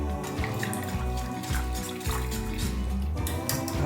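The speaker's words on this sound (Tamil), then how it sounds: "நல்லா தண்ணி நிறைய ஊற்றிக்கோங்க." Water pours steadily into rava dosa batter, a continuous close splashing trickle with no pause.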